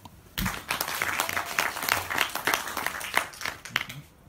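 A television game show audience breaks into applause after a quiet instant, bright overlapping claps that swell and hold, then thin out at the close.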